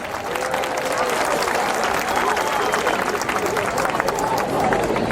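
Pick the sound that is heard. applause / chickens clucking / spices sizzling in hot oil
applause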